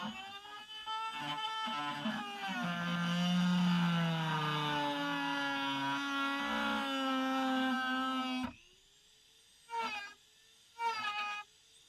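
A high-pitched power tool whines steadily as it cuts through the shell of a Boba Fett costume gauntlet, then stops abruptly, followed by two short bursts of the tool.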